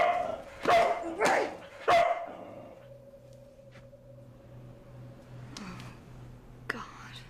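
A dog barks several times in close, loud bursts during the opening seconds, then falls quiet while a low tonal hum and faint ambient sounds carry on.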